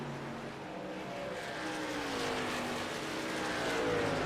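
Race trucks run laps on the Rockingham oval in iRacing, a steady engine drone with gliding pitch lines as several trucks pass, moderately loud with no talk over it.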